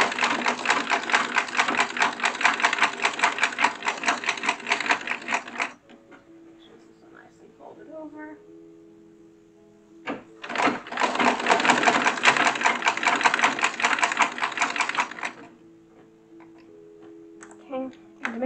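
An original 1907 sewing machine stitches a chemise in two long, steady bursts of rapid rattling needle action separated by a quieter pause with small handling sounds, close and fairly loud.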